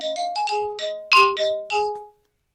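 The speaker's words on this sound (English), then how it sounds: "that'll be the phone, Reg." A telephone rings in a workshop with a melodic electronic ringtone, a quick run of bright tones repeating for about two seconds before cutting off, loud and close with no talk.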